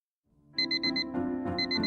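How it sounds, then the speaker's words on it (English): Electronic alarm clock in a video game beeping in quick repeated bursts of bright tones over a steady synth backing, starting after a short quiet lead-in and staying loud to the end. "I woke up to my alarm beeping"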